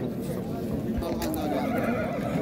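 At a horse market, a horse whinnies loudly amid a busy, noisy crowd background, with hoof clip-clops and murmuring people around it.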